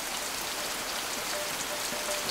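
Heavy monsoon rain in tropical Sri Lanka pours steadily, a dense even hiss of drops on surfaces with no voices.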